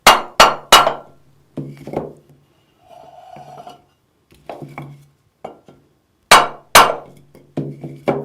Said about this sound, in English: If it's tight, tap it with a block of wood until it loosens up.